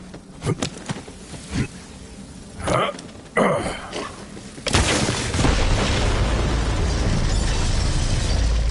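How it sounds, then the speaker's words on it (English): An explosion bursts in a forest, a sudden deep boom that follows some scattered smaller knocks and thuds, then rolls on as a long, loud, echoing rumble to the end. "The explosion echoed through the forest"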